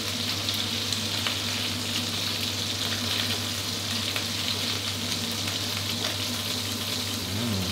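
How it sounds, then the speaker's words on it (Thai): Shrimp fry in hot oil for a Thai stir-fried noodle dish, a loud continuous close sizzle and crackle running steadily throughout with no voices. "หอมดีมากเลยครับกุ้งเวลาที่เราทอดกับน้ำมันร้อนๆนะครับ"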